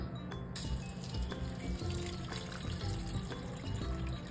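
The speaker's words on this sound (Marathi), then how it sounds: "आणि याच्यामध्ये आता पाणी ओतायचं आपल्याला." A glass of water poured into a container in a kitchen, a soft, close, continuous trickle and splash at low volume with no talking.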